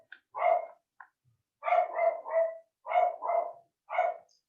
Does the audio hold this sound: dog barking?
yes